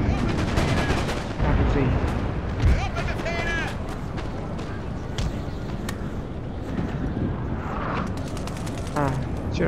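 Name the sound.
artillery firing in the video game Napoleon: Total War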